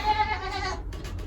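A mother goat on a dairy farm gives a single short, nasal bleat close by, clear against quiet surroundings.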